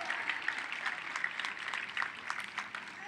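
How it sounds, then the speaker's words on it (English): An audience at a university freshman convocation claps and cheers for a jazz band, a dense, fairly soft patter of many hands with scattered sharper claps that keeps going without a break. "How about another cheer for Professor Harris and our Jazz A Band?"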